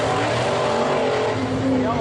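Sprint cars race around the oval at Skagit Raceway, engines roaring loudly and continuously as they drive into the turns, with a commentator talking over the noise.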